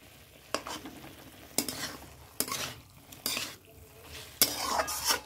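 A vegetarian curry with coriander leaves is stirred in a pan, with five distinct scraping strokes of a spoon against metal at uneven intervals over a soft, quiet sizzle. Nobody talks.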